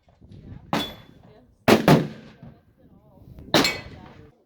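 Three sharp, loud rifle shots from a 7mm PRC firing handloaded 175-grain ELD-X bullets over 70 grains of StaBall HD powder, each crack followed by a brief echoing tail, with quiet gaps between shots.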